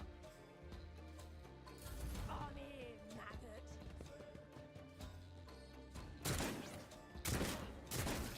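Gunfire and impacts crackle through a battle in the video game Warhammer 40,000: Rogue Trader, with rapid bursts of shots and heavier thuds over a continuous musical and combat backdrop, louder blasts near the end.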